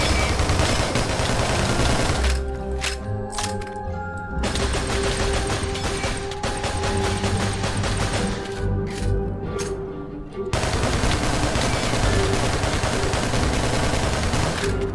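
Sustained automatic gunfire in a Minecraft game, firing 2-3 magazines in dense continuous rapid bursts, loud and near, with a brief lull partway through.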